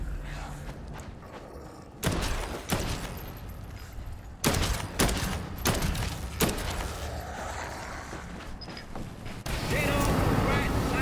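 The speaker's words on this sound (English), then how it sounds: "Get off the right side mortars at will, Sarge." Mortars fire in Dead Island 2, a series of heavy booming thumps that land at irregular intervals amid rumbling noise, with people talking throughout.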